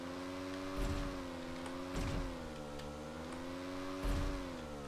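A motorbike engine in the video game PUBG Lite hums steadily with a slightly wavering pitch, broken by three dull thumps as it bounces over the ground.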